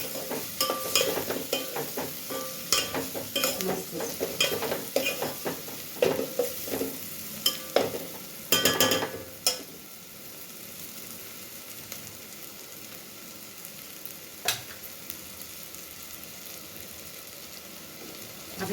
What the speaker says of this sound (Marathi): कांदा टोमॅटो छान भाजलेला आहे मसालाही छान भाजलेला आहे